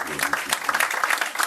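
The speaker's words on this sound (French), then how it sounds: "On les applaudit tous les trois, mesdames et messieurs." A short burst of audience clapping at a poetry evening, applauding three performers including a pianist, with voices mixed into the clatter.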